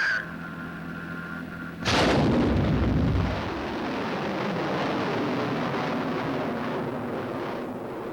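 A guided missile launches at White Sands Proving Ground with a sudden roaring blast. The roar settles into a sustained, rumbling rocket thunder that carries on for several seconds, loud and steady.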